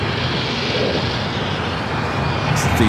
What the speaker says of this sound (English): 787-10 Dreamliner coming in from Newark